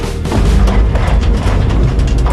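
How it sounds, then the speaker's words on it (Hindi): A 130 mm towed field gun firing, sounding as a loud, heavy low-frequency boom and rumble that fills the whole stretch with dense, rolling energy and no voices. "52 कैलिबर लेंथ की ये तोप काफी लंबी दूरी तक रॉकेट्स फेंक सकती है।"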